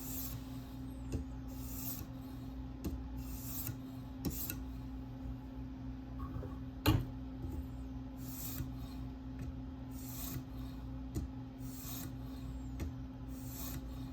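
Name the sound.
sharpening K390 Delica knife on TSProf K03 stones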